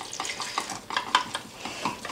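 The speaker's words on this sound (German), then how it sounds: "damit ich das gut verrühren kann, ohne Klümpchen" Cornstarch being stirred with a little fruit juice in a small bowl, giving soft, repeated scraping and clinking strokes at a steady rhythm, close and fairly quiet with no talk.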